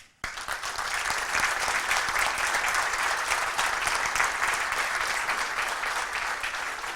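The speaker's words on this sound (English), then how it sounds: "I feel like we need to give you another round of applause" An audience at a 1 Million Cups Wichita startup pitch breaks into applause, starting suddenly and holding as a dense, steady, fairly close round of clapping for several seconds.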